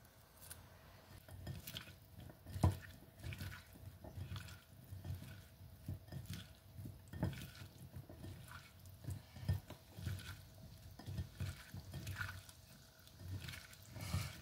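Spicy Korean cucumber side dish (oi muchim) being tossed and mixed with onion and sauce in a bowl, steady wet squelching and soft clinks repeating in an irregular rhythm, close and fairly quiet, no talking.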